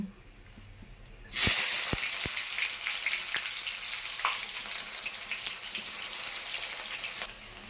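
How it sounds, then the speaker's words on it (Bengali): Chopped onion, dried chillies, bay leaves and cumin hit hot oil with a sudden loud sizzle, then keep crackling and spitting steadily, with a few sharp pops and taps near the start. "তেল গরম হয়ে গেছে এবার দিয়ে দেবো দেখো দুটো শুকনো লঙ্কা আর দুটো তেজপাতা আর দিয়ে দেবো সাদা জিরে ফোড়নে দিয়ে দেবো পেঁয়াজ কুচি"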